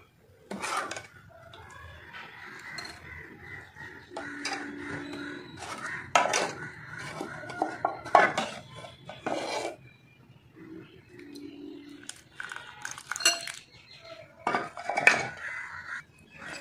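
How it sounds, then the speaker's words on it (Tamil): Dissolved dal being strained through a sieve, with intermittent scraping, rubbing and metallic clinks of utensils against the sieve and pot, in irregular bursts separated by quiet gaps. "இந்த ஜல்லடை வச்சு நம்ம நல்லா வடிகட்டிக்கலாம்."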